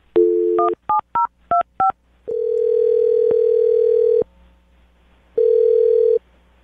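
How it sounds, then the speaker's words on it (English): A phone number is keyed in as a quick series of DTMF tone beeps, followed by long steady tones with a short gap between them, clear and prominent with no talking. "I'm going to dial the phone number right now"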